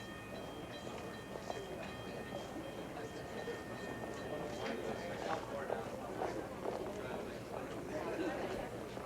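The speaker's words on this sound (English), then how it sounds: "Shuttle train from Alpine, now arriving trackside." A shuttle train from Alpine arrives at a station, its steady rumble and rattling wagons filling the scene at moderate distance while voices murmur underneath.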